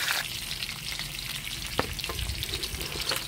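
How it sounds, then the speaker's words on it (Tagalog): Yellowfin fish frying in a pan gives a dense, steady crackling sizzle of hot oil with a single sharp utensil tap, close and fairly quiet, with no talking. "Magprito tayo ng fish yellowfin."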